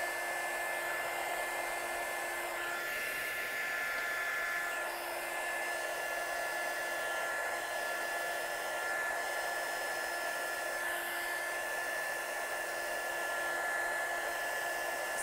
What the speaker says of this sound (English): So like short, sharp blasts of heat, and this will stop that nasty warp.